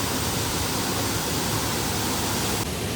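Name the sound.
small hidden waterfall flowing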